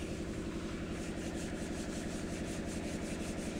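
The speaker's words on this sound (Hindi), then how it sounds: "चलिए मैं पूरा रेगमाल लगा लेता हूँ" Sandpaper rubs over an old tractor's rusted metal body, a continuous dense scratchy rasp with a faint rhythmic back-and-forth pulse, close and steady throughout.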